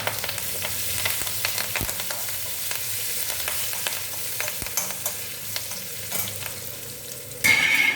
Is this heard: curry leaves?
yes